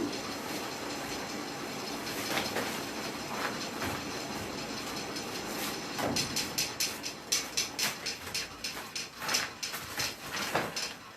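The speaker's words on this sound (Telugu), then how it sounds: "అందులో రైలు బండి సౌండ్ వచ్చినట్టు వస్తుంది." A train-like rumble rolls through the recording, a steady low roar with rhythmic clattering pulses that grow more pronounced toward the end, with no speech over it.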